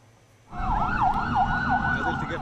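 An ambulance siren starts abruptly and wails in a rapid rising-and-falling pattern, loud and close, over traffic rumble.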